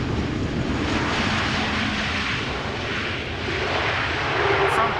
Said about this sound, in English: This is a MAX 8 from TUI.